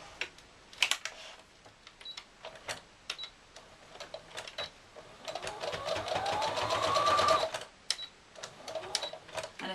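A sewing machine stitches a Santa cushion, with short bursts of rapid mechanical clicking early on and then a longer continuous whirring run that rises in pitch as it speeds up.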